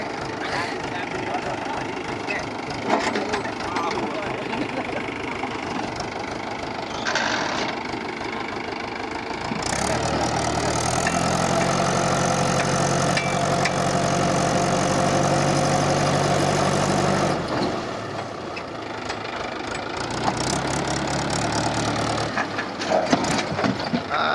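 A tractor engine preparing a night cricket ground idles with a low, steady rumble that swells louder midway, while people talk over it throughout.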